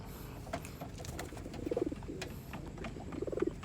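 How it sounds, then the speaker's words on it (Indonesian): A free-flying pet bird eats from a hand outdoors, with soft cooing calls from doves or pigeons rising twice against a quiet, steady background. "Nah ini burung lagi numpang makan ini."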